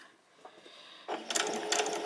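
A sewing machine stitching slowly to baste fabric for a pleated top starts after a quiet moment with a close, rapid mechanical whirr and clatter of the needle, alone without talk.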